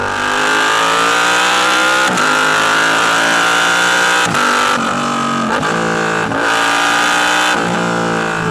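A Yamaha R7 sport motorcycle engine revs up loudly through the gears, its pitch climbing repeatedly with short drops at each shift, close and continuous with no talking.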